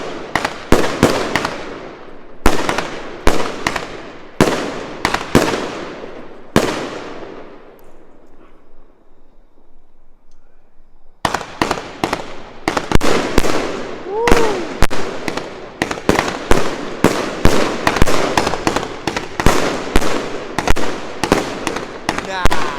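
Bonfire night fireworks burst in rapid volleys of loud, sharp bangs and crackles, with a quieter lull of fading crackle before the barrage resumes densely, some pops nearer and louder than others.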